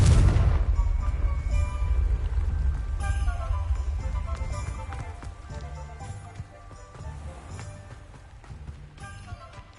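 Confringo blast spell in Hogwarts Legacy, a heavy booming burst at the start that rolls off into a fading rumble, followed by scattered clattering and clip-clop-like impacts.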